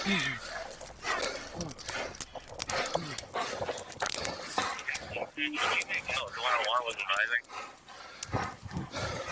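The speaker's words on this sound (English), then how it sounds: "that dog hyped up" An excited dog barks, growls and whimpers in quick bursts, close and loud, while people talk over it nearly all the way through.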